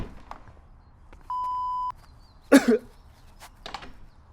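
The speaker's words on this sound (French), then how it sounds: "Laissez votre message après le bip" A single clean electronic beep sounds for about half a second in a quiet room, followed by a short cough and a few faint rustles.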